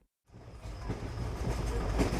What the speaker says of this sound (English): that's the train leaving the station